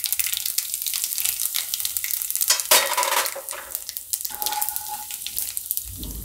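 Cumin seeds and asafoetida hit hot oil in a pan, giving a steady loud crackling sizzle with some stirring and utensil scraping, close and without talk.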